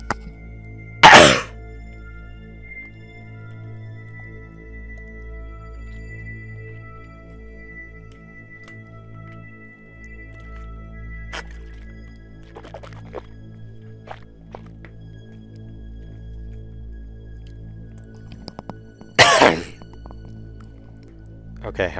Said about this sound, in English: Cough and get anything in my throat out.